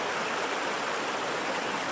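A babbling brook in Colorado rushes steadily, a dense, even broadband hiss of flowing water that stays close and constant, with no voices heard.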